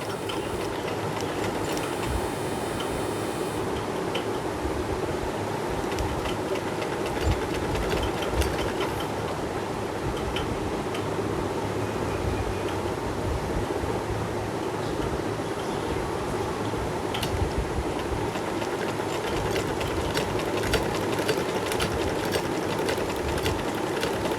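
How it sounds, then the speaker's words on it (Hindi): A sewing machine stitches the back neck of a kameez, humming and clattering continuously at an even level throughout, close up, with no voices. "और फिर शुरू करनी है सिलाई"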